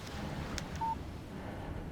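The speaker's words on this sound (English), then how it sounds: "Text message from Barry." A text message notification from the Alan Wake video game gives a single short, clean beep that stands out over a steady low background hum.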